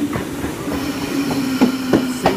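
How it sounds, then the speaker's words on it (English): A Sydney Trains K set pulls into a station platform with a steady low hum and a run of rhythmic wheel clicks over the rail joints, close and fairly loud. "We've got a KSET arriving into platform 3, Emu Plains service."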